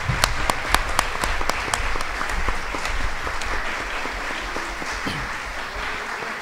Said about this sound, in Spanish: Nosotros los aplaudimos